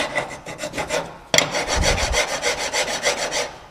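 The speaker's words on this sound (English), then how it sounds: "I'm just going to use a file to clean up these faces." A hand file rasps rust off the brake carrier faces of a Jaguar XF, close and loud, in quick rhythmic back-and-forth strokes, about a dozen in a steady run.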